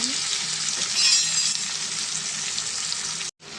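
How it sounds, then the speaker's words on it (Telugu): Chopped onion, green chilies and curry leaves hit hot oil and crackle in a dense, steady hiss that cuts off abruptly for a moment near the end. "ఇప్పుడు మనం ఉల్లిపాయ, పచ్చిమిర్చి, కరివేపాకు నూనెలో వేసేద్దామండి."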